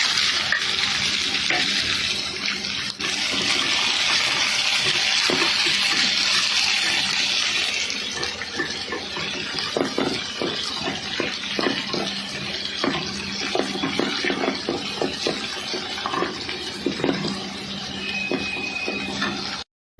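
Chopped onions tossed into hot oil with browned garlic bring a strong sizzle that settles into steady frying. Scattered stirring clatter and scrapes continue close by.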